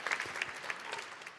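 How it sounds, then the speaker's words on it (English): Audience applause for hackathon teams after their pitches at an energy data hackdays event, a brief steady burst of many hands clapping from a moderately distant crowd. "Big round of applause for the teams."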